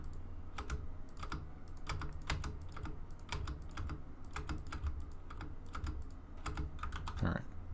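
Rapid bursts of typing on a computer keyboard during C++ OpenGL programming, with clustered keystrokes and short pauses continuing steadily throughout at close range.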